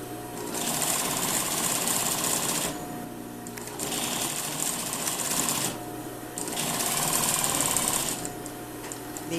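A sewing machine runs in three long bursts with brief pauses between them while understitching the facing of a lined jacket, giving a fast, close, loud mechanical whir.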